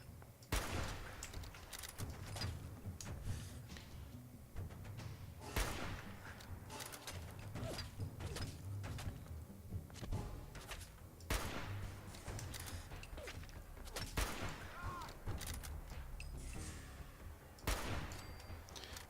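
Gunfire and grenade blasts in a Fallout battle against raiders in a populated area: sharp shots and heavy thumping explosions recur every few seconds over a low rumbling background, with no talking.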